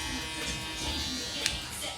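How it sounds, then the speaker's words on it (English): Electric shaver buzzing steadily while working on a low fade haircut and beard line, a thin constant hum at modest volume with a person talking over it. "Now we're gonna go ahead and put the shaver."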